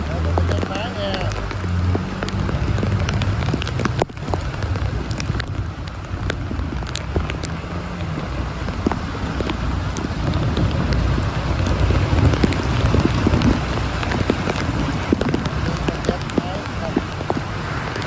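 Heavy rain pours steadily onto a flooded city street in Can Tho, Vietnam, a dense, continuous close hiss with scattered spatters and splashes throughout.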